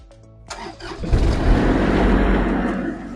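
A food truck's generator engine cranks and catches after a short lead-in, then settles into a loud, steady running rumble that continues to the end.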